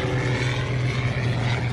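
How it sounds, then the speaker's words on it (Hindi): A stunt plane's propeller engine drones loudly and steadily during aerobatic flying over Guatemala, a continuous close buzz with a strong low hum, cutting off abruptly at the end. "इससे पहले वो विमान आसमान में कई तरह के करतब दिखाता नजर आया।"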